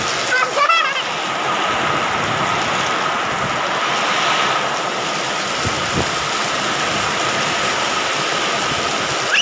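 Steady rain pours outdoors in a broad, continuous hiss that holds at an even level across the whole stretch, with a brief higher chirp near the start.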